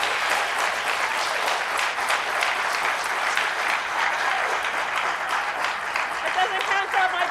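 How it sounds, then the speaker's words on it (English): Sustained applause fills a town board organizational meeting, dense steady clapping from the audience holding at an even level throughout, with no pause and no voices breaking through. "Applause does not count toward my time"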